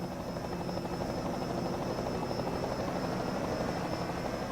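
Steady droning rotor and engine noise of a helicopter hovering over Martinsville Speedway in the NASCAR Racing 2003 game, a continuous, fairly loud hum with a faint high whine, heard alone without any talk.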